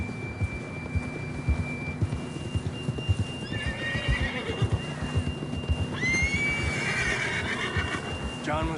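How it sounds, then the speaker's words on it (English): A horse in a video game clip-clops at a steady trotting rhythm, with two clear neighs breaking in partway through, over a faint steady tone. "John was riding that horse when we left Blackwater"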